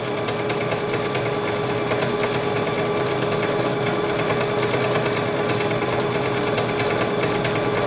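A bernette Sew&go8 sewing machine runs continuously while stitching a decorative flower pattern, a steady, close, even mechanical whir with no speech.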